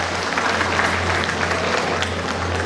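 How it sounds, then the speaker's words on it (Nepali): Audience clapping fills a gathering after a thank-you during a speech at a welfare program: dense, steady applause from many hands, loud and continuous throughout, with no voices standing out. "सबैले धन्यवाद भनेर योपालि ताली मार्नु"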